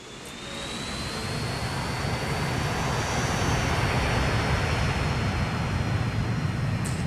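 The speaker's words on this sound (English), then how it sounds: "Yep, this is the age of the jet planes" Jet airliners roar at a busy airport in the Transport Fever 2 game, a loud, steady broadband engine rumble that swells over the first second and then holds continuously, with a faint high whine running through it.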